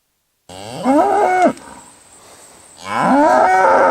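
Two loud, close cow moos from cattle beside an electric fence, each a drawn-out bellow with falling pitch, separated by a brief pause with faint background noise.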